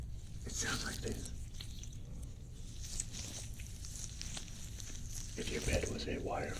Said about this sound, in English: Didn't you always wonder what a miniature bed in your ear sounds like?